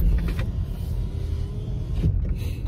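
Car driving on a road, a steady low rumble of engine and tyre noise filling the cabin throughout, with no one talking.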